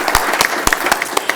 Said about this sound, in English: yes, we should clap.